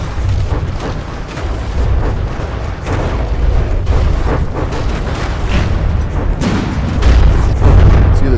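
Missiles pound an armored warship in a naval combat video game, producing a relentless barrage of loud booms and explosive thuds that overlap in a dense, rumbling stream.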